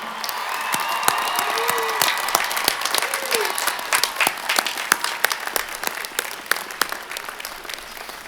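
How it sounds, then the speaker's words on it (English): Commencement crowd at the University of New Hampshire 2018 ceremony applauds the faculty: a big, lively wash of clapping with scattered sharp claps standing out, a few cheers and a whistle, gradually thinning toward the end. "So let's give a big round of applause to our outstanding UNH faculty."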